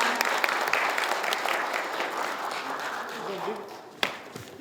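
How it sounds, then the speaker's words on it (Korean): Members at a construction association's general meeting applaud during an award presentation, clapping loud at first and gradually tapering, with a sharp thump near the end and faint voices underneath. "큰 박수 부탁드립니다."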